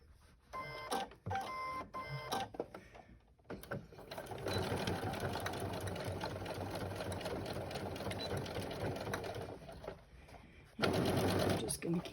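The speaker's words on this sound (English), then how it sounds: "So I'll get those pinned on and meet you at the sewing machine." A sewing machine stitches D-ring fabric pieces onto a child's backpack made of Levi denim and cotton, running in short bursts, then in a long steady whir and a final loud run.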